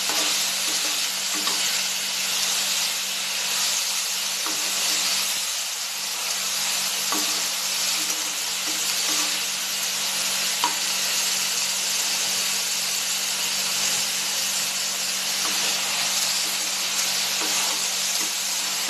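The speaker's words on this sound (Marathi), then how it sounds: "टोमॅटो चांगली परतून घ्यायची मऊ होतपर्यंत" Green tomatoes and okra sautéing in a pan on the stove, a steady loud sizzle and hiss throughout with occasional soft stirring scrapes, no talking.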